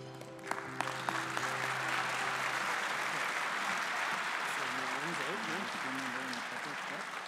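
Warm applause at an awards ceremony after an honoree's thank-you speech, a continuous roar of clapping swelling in and holding steady, with a voice speaking over the start and tonal sounds drifting through.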